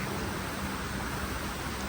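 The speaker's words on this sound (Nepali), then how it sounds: "आज पानी पर्न लागेको छ।" Rain falls steadily in Malaysia as an even, unbroken hiss with no distinct drops, moderately loud and alone throughout.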